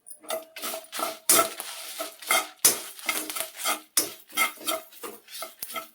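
Cumin and mustard seeds roasting in a pan with curry leaves, stirred with a metal spoon in rapid scraping strokes that clink against the pan, close and steady.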